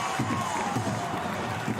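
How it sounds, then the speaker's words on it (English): Rugby league crowd at Campbelltown cheering during a Wests Tigers attack, a dense roar with rhythmic chanting pulses, loud and continuous over the short moment. "The Campbelltown crowd's up now."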